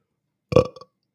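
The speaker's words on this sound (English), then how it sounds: "minus the burp" A single short burp breaks out of silence, loud and close, with a brief throaty tail fading out.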